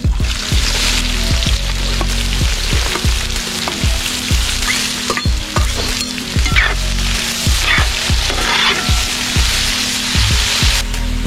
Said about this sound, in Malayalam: നമ്മൾ കുറച്ച് സവാള ഇതിൻ്റെ അകത്തേക്ക് ഇടുന്നു.